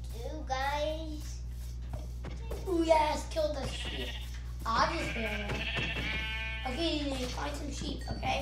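Sheep in the video game Minecraft bleat several times in a row, wavering calls heard over a steady low hum, with a voice talking between and over them.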